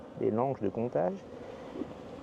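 Honeybees buzz at a hive in a steady, moderately quiet drone, with a voice briefly heard near the start.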